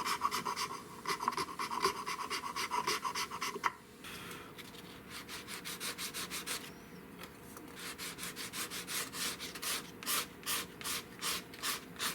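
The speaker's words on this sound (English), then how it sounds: "I'm down to 220 sandpaper" A broken Cooper M38 rifle stock being sanded by hand with 220-grit sandpaper, steady rhythmic rasping strokes close up, a brief pause partway, then faster, more evenly pulsed strokes.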